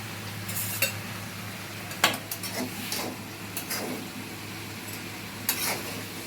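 Pui shak and prawns with vegetables are stirred in a packed kadai, a soft sizzle underneath a few scattered scrapes and clinks of the spatula against the pan.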